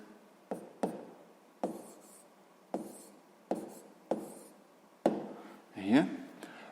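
Numbers being written by hand during a sixth-grade maths exercise, a series of short, sharp pen or chalk taps and strokes at irregular intervals, close and fairly distinct.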